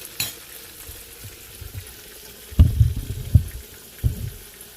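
Southern fried chicken cooking in a pan gives a low, steady frying hiss, with a few louder bursts of crackle and spatter in the second half.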